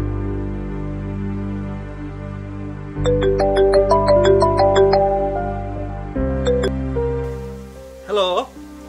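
A mobile phone ringtone plays a bright melodic tune for about three seconds over a low background hum. Steadier tones follow, then a brief voice.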